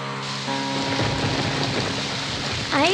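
Rain falling in a Tamil thriller film scene, a dense steady hiss of downpour filling the background throughout, with a faint tonal sweep near the end.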